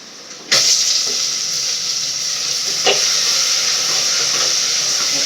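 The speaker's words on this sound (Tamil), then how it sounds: "இன்னும் வந்து தண்ணி வேற கொதிக்குது" Water boiling in a pot on a home stove during fish curry cooking, a steady close bubbling hiss that runs throughout, broken by a couple of soft clunks.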